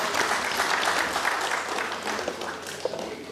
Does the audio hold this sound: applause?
yes